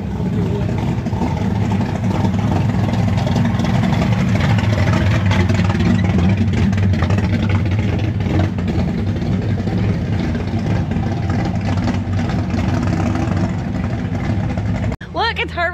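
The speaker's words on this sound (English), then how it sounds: "That car is loud." Loud car engine idling at a rat rod car show, a steady low rumble running continuously for about fifteen seconds, with people talking over it and a brief break near the end.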